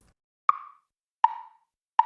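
A metronome ticks three times at an even, moderate pace, each tick a sharp wooden click with a short ringing tail, alone in silence.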